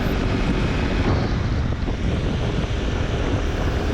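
Steady, loud wind roar buffets the microphone while riding a Harley-Davidson motorcycle behind a small windshield, a dense broadband rush that runs unbroken throughout with no voices.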